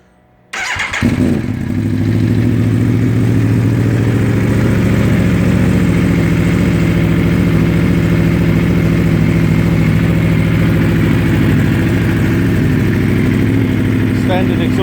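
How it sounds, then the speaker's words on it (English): Aprilia Tuono V4R motorcycle with its exhaust flapper valve disconnected, firing up after a brief silence and settling into a loud, steady, deep idle rumble that holds close to the microphone for the rest of the clip. "I'll quickly start it and just So you can hear what it sounds like without with the flapper valve disconnected."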